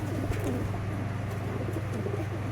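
Racing pigeons in a loft coo in a low, steady murmur, with a few faint higher chirps above the dense, continuous cooing.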